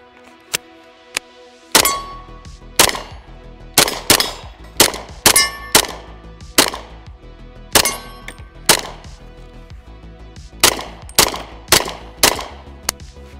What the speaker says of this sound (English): KelTec Sub 2000. This is chambered in 40 cal.